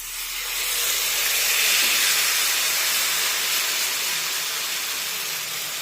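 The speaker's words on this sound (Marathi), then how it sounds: "त्यानंतर पळीने हे बॅटर या पॅनमध्ये सोडूया" Wheat flour batter is ladled into a hot pan to cook a dhirde, a loud broad sizzling hiss that swells in the first second and holds steadily before easing slightly.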